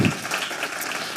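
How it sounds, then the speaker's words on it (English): Brief burst of audience applause welcoming a speaker at a women-on-boards gathering, a dense, steady patter of many hands filling the room. "A round of applause."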